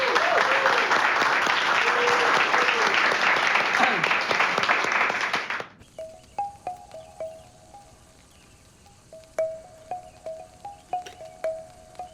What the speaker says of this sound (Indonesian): Tepuk tangan buat Babin kita